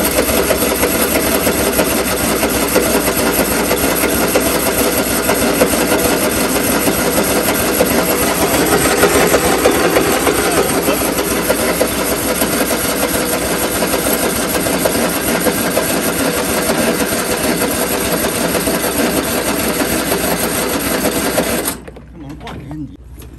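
Cub Cadet lawn tractor engine idling after a cold start, a steady loud mechanical chugging hum that continues evenly before dropping away near the end.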